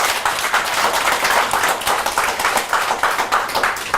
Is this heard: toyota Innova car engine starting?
no